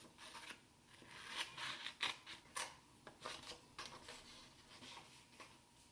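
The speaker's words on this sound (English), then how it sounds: "To cut it out with my scissors" Scissors snipping through orange construction paper during a snowman puppet craft, a quiet series of short crisp cuts in irregular bursts, close and faint with no talk.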